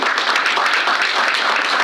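An audience claps at a Central NH Chamber of Commerce travel and tourism seminar, producing dense, steady applause from many hands at full volume that fills the room throughout without a break.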